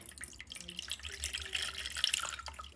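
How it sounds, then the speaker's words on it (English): Coconut water pours steadily into a pot of simmering caramelised pork belly, a continuous splashing gurgle lasting the whole moment, close and fairly loud with no talk. "A bit more coconut water to the pot."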